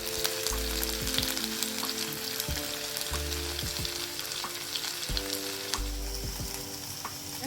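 Pieces of yam fry in coconut oil in a pan with a steady, close sizzle. Faint stirring clatters come in now and then, and nobody speaks.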